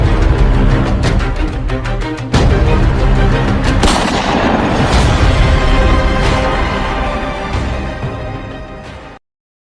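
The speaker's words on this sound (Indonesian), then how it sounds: "Terjadi baku tembak antara Belanda dan TKR." Battle sound effect of gunfire exchanged between Dutch troops and TKR fighters at Ambarawa, with loud dense volleys of shots and booming blasts that keep rolling before cutting off abruptly.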